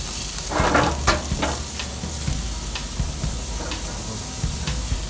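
Steaks sizzling on a grill just after being flipped, a steady close hiss of frying with scattered small pops and crackles and no talk.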